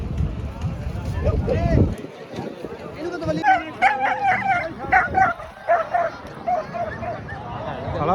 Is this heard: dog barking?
yes